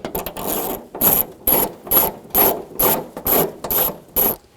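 Rapid metallic ratcheting from a socket wrench backing out 10mm screws on the liner around a 2013-2017 Honda Accord park assist camera, in eight rhythmic bursts, close and clear.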